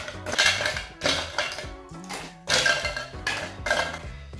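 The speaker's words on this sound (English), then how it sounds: "Add a lot of ice to it." Ice cubes are dropped and scooped into a metal cocktail tin while a Brooklyn Godfather bourbon cocktail is made, producing several sharp, close clattering bursts of rattling ice against metal at uneven intervals.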